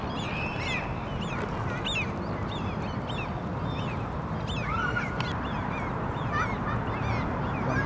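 Barnacle geese honk constantly around a park in Helsinki, many overlapping yelping calls from a flock at close and middle distance over a steady background hum.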